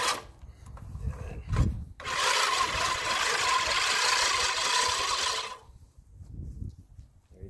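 A Scotts 14-inch manual reel mower cuts grass in one steady pass, a loud whirring rasp of spinning blades lasting a few seconds, with brief rustles and footsteps before it and a quieter tail after.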